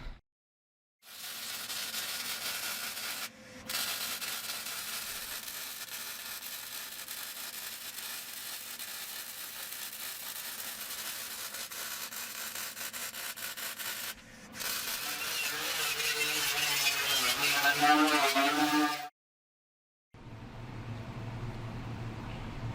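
MIG-style welding of a steel top plate onto a homemade flatbed for a 1997 Dodge 2500 SRW truck: long steady crackling, buzzing bursts with brief pauses between welds, close and loud.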